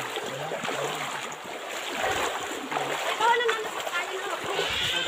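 Feet splashing through shallow river water on a mountain trek, with irregular wet sloshes and spatters close by while several people talk and exclaim over the running water.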